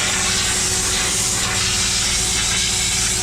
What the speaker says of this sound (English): we'll spray all this concrete out from under the valve